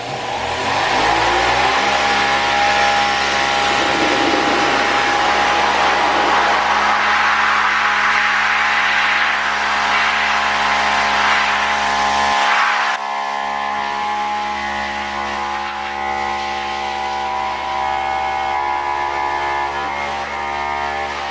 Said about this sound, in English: We'll hit it with the old pressure washer.